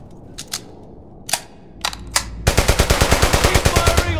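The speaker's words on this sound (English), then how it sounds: "Keep firing on that position." Machine gun fire in the World War II shooter Brothers in Arms: Hell's Highway, set in Eindhoven, Holland, 1944: a few scattered single shots, then a fast, loud sustained burst of rapid rounds.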